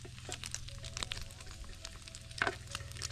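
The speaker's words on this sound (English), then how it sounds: "I think the bacon's done." Bacon frying in a pan at a campout near Kartchner Caverns, a steady close crackling sizzle with small pops and light scraping, no talking over it.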